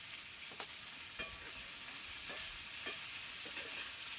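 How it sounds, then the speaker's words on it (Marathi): Tender green bean pods roast in hot oil in a pan, giving a soft, steady sizzle with a few faint stirring clicks, quiet and close, with no voices. "ही शेंग तेलात चांगली भाजून घ्यायची"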